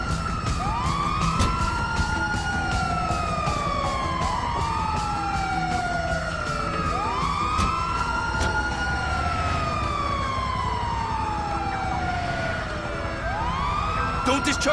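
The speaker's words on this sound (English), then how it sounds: "Oh, it's the ambulance! Move!" An ambulance siren in the Grand Theft Auto V video game wails loudly and continuously, sweeping up and down in repeated cycles over steady background engine noise.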